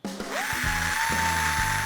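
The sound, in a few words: drilling into a crankshaft throw to remove mass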